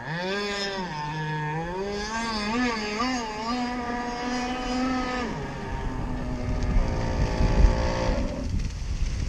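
A radio-controlled Jersey skiff boat's motor revs with rising and falling pitch, then a rougher, louder, noisier rasp takes over, as when an exhaust pipe comes undone. No talking.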